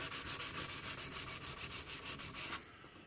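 Rhythmic strokes of 1000 grit sandpaper polishing the edge of a softwood axe, about a dozen even back-and-forth rubs, close and steady, stopping abruptly near the end.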